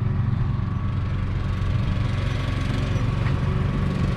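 A tractor engine runs at a steady, loud drone while hauling a wagon of kids at a roadside attraction, its constant mechanical rumble close by with no talking.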